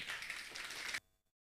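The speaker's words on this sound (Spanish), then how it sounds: "vamos a recibir una vez más con fuertes aplausos al coro Nueva Alegría" Applause from a church congregation for a choir during a prayer service, a dense wash of clapping that runs steadily for about a second and then cuts off abruptly, leaving near silence.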